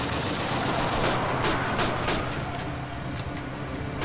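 Rapid gunfire in the World War II shooter Call of Duty: United Offensive, a dense stream of overlapping shots with sharp bursts standing out over constant battlefield noise.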